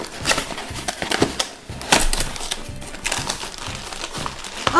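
Cardboard and tape crinkle and crunch in bursts of handling as a Christmas gift package with figurines is unwrapped indoors, close and fairly loud with no talking.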